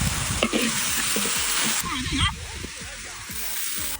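Green beans dropped into a hot wok of oil in a rural home kitchen, a loud continuous sizzle and crackle with stirring scrapes and a brief slosh, under occasional talk.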